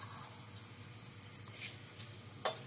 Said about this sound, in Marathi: हे बघा आपलं मस्तपैकी जिरे मोहरी नाचायला लागलेले आहेत